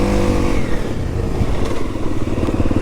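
A new 4-stroke enduro motorcycle engine revs close and loud, a steady throaty drone with rising and falling throttle and some mechanical clatter, no voices.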